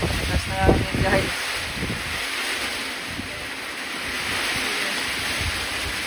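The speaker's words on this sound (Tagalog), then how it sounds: "Lakas ng ulan. Ah, lakas ng hangin din o." Heavy rain and strong wind roar as a steady broadband wash throughout, with gusts swelling early on; a voice speaks briefly near the start.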